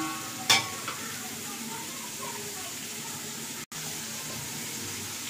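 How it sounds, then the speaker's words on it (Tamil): Onions sautéing in ghee for Muslim-style ghee rice give a steady, even sizzle throughout, with one brief metallic clank from a utensil near the start. "வெங்காயம் நல்ல ப்ரௌனிஷாக வர வரைக்கும் அதை வதக்கணும்."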